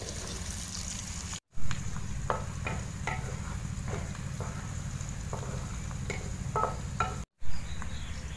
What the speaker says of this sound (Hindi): प्याज डालने के बाद हम इनको हल्का फ्राई कर लेते हैं।